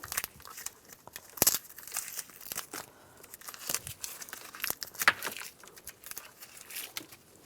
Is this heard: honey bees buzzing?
no